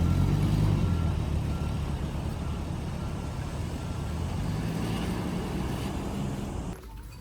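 A pickup truck drives on the road with a loud, steady engine rumble and road noise close up. The sound holds constant, then drops abruptly near the end, with no talking.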